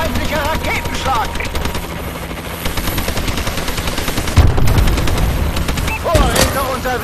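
Call of Duty: Advanced Warfare multiplayer match with a Warbird aircraft overhead, a dense mix of rapid gunfire bursts and a throbbing aircraft drone, with loud impacts near the middle and end and in-game voice callouts in German.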